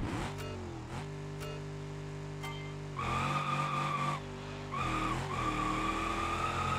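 A car drifting in the BeamNG driving game gives a sustained engine drone while its tires squeal and skid almost continuously, the whine shifting pitch and surging louder in the second half, close and with no talking.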